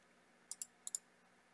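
Computer mouse clicks while working in HyperMesh 2023, two quick pairs of crisp, close clicks over a quiet background hum.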